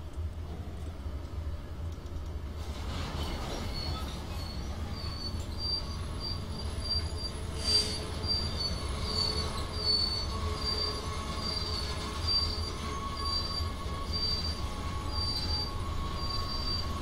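A train departing in the Feather River Canyon in Train Simulator gives a sustained high metallic wheel squeal over a steady low rumble of rolling stock, continuous throughout with no talk.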